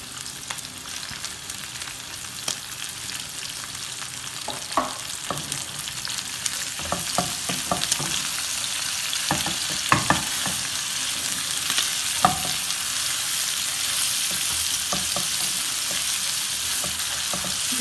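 Julienned capsicum, carrot and cabbage being stir-fried for chicken vegetable noodles, a steady loud sizzle running throughout with repeated scraping and clacking of the utensil against the pan.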